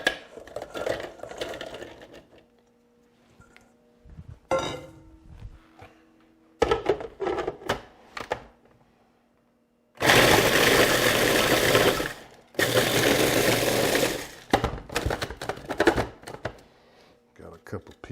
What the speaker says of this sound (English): We're going to put them in the food processor.